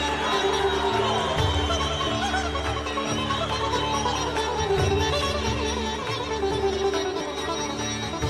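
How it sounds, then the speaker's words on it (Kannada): Crowd applause and cheering at a swearing-in ceremony for a state chief minister, sustained clapping and chatter filling the hall over steady background music, moderately loud throughout. "ಚಪ್ಪಾಳೆಯೊಂದಿಗೆ"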